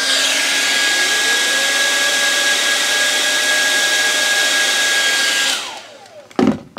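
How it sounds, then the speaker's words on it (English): A hair dryer blows on the propeller of a tiny commutated DC motor, giving a loud, steady whooshing roar with a faint whine that winds down after about five seconds, followed by a brief clatter. "we're going to see what we can get out of it using a hairdryer"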